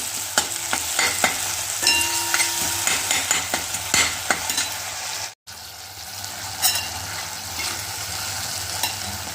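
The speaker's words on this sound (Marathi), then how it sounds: "ही परत थोडीशी परतून घेते आणि थोडं एक दोन मिनिट शिजू देते" Flax flower chutney sautéing in a pan, with steady close frying sizzle, spoon stirring scrapes and taps throughout and a brief cut in the middle.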